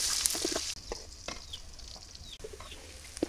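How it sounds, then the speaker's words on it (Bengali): Chopped onions sizzle in hot oil as a spatula stirs them in a village kitchen, with irregular scraping strokes and clatters over a quieter, steady fry. "পেঁয়াজ কুচি দিয়ে দিলাম, পেঁয়াজ কুচি হালকা চালা দিয়ে নেই।"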